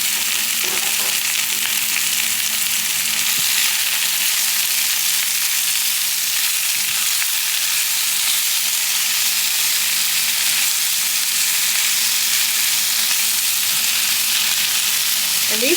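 Chicken thighs, frozen and still a little wet, frying in oil over medium-high heat, giving a loud, dense, unbroken sizzle that holds steady close up the whole time.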